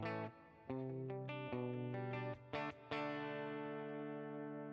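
A clean electric guitar tone through an FAS AX8 with a Tweed Deluxe cab plays a few plucked notes and chords that ring out, with a final chord sustaining and slowly decaying. The tone is quiet and clear, with no voices.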